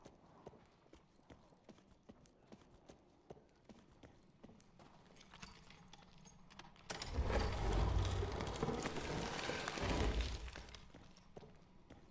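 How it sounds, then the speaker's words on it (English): Footsteps in the Dark and Darker dungeon video game, a quiet regular series of soft steps that gives way to a louder rushing, clattering burst midway before fading back to faint steps. "I definitely heard footsteps."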